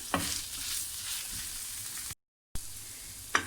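Tawa kaleji, pieces of liver sprinkled with chaat masala, sizzling on a hot griddle as they are stirred and mixed, a quiet steady hiss broken by a brief silent gap and sharp scraping clicks of the utensil.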